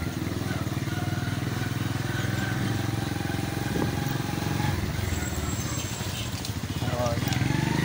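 Motorcycle ridden one-handed through streets on Eid day in Pakistan, its engine droning steadily and close throughout, with a faint voice talking over it.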